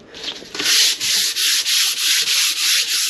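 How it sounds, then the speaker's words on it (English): Sandpaper scuffs primer on cabinet boxes, rubbing back and forth in a steady rhythm of about six close, loud scratchy strokes. "Just gonna take some sanding paper and I'm gonna scuff this primer up."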